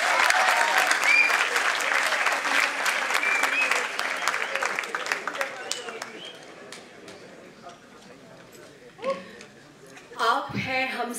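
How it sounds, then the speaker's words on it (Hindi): Audience at a mushaira and kavi sammelan poetry event breaks into loud, sustained clapping that welcomes a poet and gradually thins out, with a host speaking into a microphone as it fades. "एक बार जोरदार तालियों के साथ स्वागत कीजिए शिखा पचौरी जी का।"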